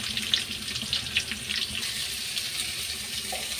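Chopped onions sautéing in a pan for a kurma make a steady, moderately quiet hiss and crackle throughout, with no one speaking.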